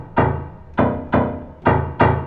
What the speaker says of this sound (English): I've put things in my piano to make it sound like a drum rather than a piano.